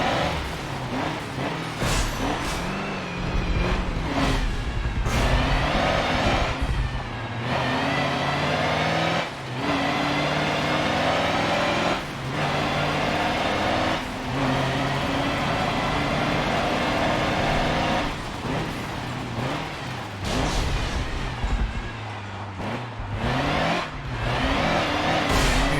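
A truck engine in the Forza racing game accelerates hard and loud for the whole stretch. It revs up again and again, with short dips as the closely spaced gears shift and the revs drop back to low.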